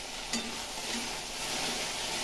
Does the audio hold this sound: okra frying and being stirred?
yes